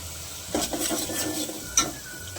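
Green masala paste sautéing in oil for Maharashtrian katachi amti, a soft sizzle with faint stirring scrapes and light clinks of a spoon against the pan, close and quiet, without speech.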